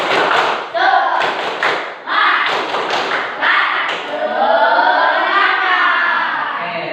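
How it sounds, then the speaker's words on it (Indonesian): A school class performs a rhythmic spirit clap, a dense crowd of hands striking in repeated bursts with chanting voices, loud and close, ending in a sustained group shout. "kita tepuk semangat terlebih dahulu"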